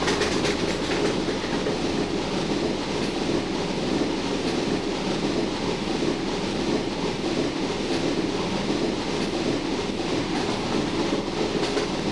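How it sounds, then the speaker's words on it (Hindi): The Jabalpur Santragachi Humsafar Express, hauled by a locomotive during shunting, rumbles along the rails with a continuous dense roar and faint clickety-clack of wheels, steady and close throughout. "ये वही ट्रेन ऐसे आई जो कि Jabalpur junction platform number six में खड़ी थी"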